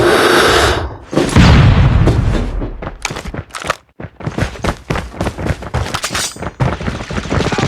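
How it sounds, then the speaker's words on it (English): A flashbang grenade exploding in Call of Duty Mobile during a ranked Domination match, a loud booming blast followed by a rapid, sharp burst of gunfire close up, with no talk over it. "Flashbang!"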